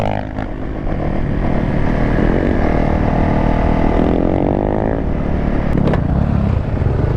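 Dirt bike engines racing, a loud nearby buzzing rev that climbs and falls repeatedly with overlapping engine notes and a couple of sharp clattery bursts toward the end.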